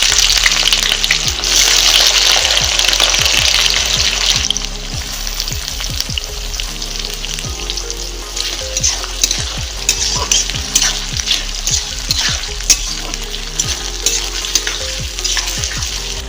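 Onions hit hot oil seasoned with five-spice for a chicken curry, bursting into a loud close sizzle that settles into steady frying with frequent scraping and stirring clatters.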